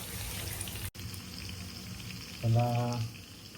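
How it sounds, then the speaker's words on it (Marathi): Dhoma fish frying in a pan makes a soft, continuous sizzle with one brief dropout, then a short voiced sound rises over it near the end. "इथे आपला ढोमा मासा फ्राय तर होतेच"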